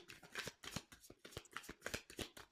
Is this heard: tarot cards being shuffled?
yes